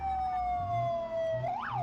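A police car siren in BeamNG.drive career mode wails loud and near, a long steady tone that sags slightly before a quick rising whoop, over faint engine rumble.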